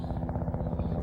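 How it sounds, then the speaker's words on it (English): Helicopter arriving in a Catwoman video game finale boss fight, a steady close rotor thump with a low pulsing drone filling the whole moment. "The big boss called in a helicopter."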